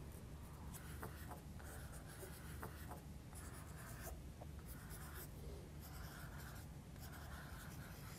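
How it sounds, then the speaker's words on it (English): A Derwent Inktense apple green pencil scratching across wet fabric, soft rhythmic strokes repeating steadily at close range, quiet and without any talking. "I've also got an apple green pencil which I'm going to work in on top"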